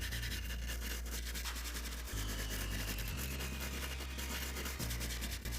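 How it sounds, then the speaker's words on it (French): A wire brush scrubs steadily across a fibre cement roofing sheet around a drilled hole, a close, continuous abrasive rasping with no speech. "À l'aide d'une brosse métallique, on nettoie la plaque en fibrociment autour du trou."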